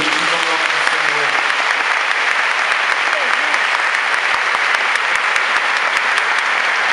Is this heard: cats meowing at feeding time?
no